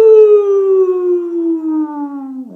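A single loud human howl imitating a wolf, a long sustained tone sliding slowly downward for over two seconds, delivered during a children's storytime at a library branch.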